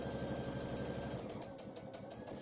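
A sewing machine stitches across the end of a luggage tag strap and carries on down it, a steady close mechanical whirr running the whole time with no talking.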